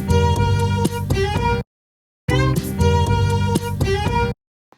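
Chopped fiddle strum sample from a song intro, bright rhythmic bowed-string strums in two short bursts separated by a silent gap, close and loud with no voices.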